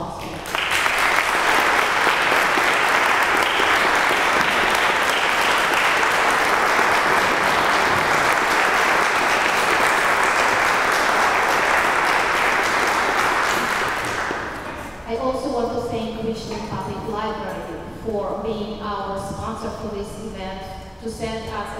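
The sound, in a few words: audience applause at chamber orchestra concert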